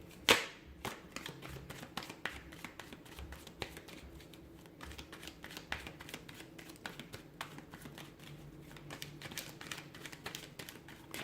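Rapid, irregular clicks and riffling snaps of tarot cards being shuffled, repeated in quick bursts close by, with no talking.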